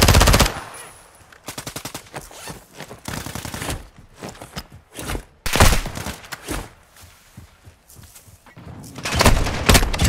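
Automatic weapon fire in Call of Duty Modern Warfare 2 multiplayer, with loud rapid bursts repeating across the span, separated by short gaps and heavier booming shots.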